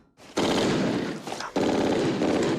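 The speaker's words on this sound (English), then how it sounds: "What the hell are they shooting at?" Sustained machine-gun fire in a war drama battle scene, loud bursts running almost continuously with a brief dip midway.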